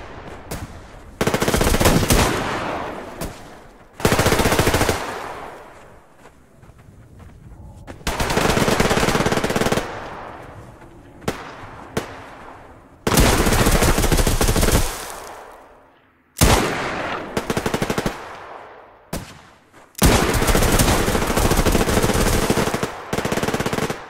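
Gunfire from a Colt Python revolver in the video game Survarium, heard as loud, close bursts of shots repeated several times with short quiet gaps between them.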